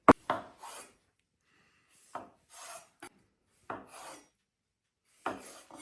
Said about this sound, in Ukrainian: Тепер, друзі, у мене тут помідорки чері. Нарізаємо їх просто на 4 частинки.